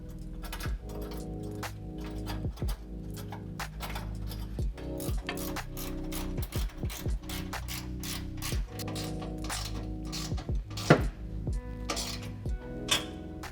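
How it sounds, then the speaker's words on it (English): Ratchet clicking steadily while exhaust hanger nuts are tightened on a 2015-2020 Ford F150 during a cat-back exhaust install, with repeated close bursts of pawl ticks and brief pauses and no talk. "And then we can tighten these down."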